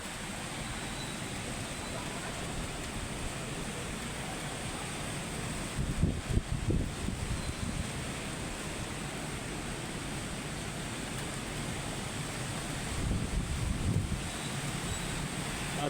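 Heavy typhoon rain and strong wind lash a street in Ortigas, Manila, a steady broadband roar of downpour and gusting air with a couple of louder surges where the wind buffets the microphone.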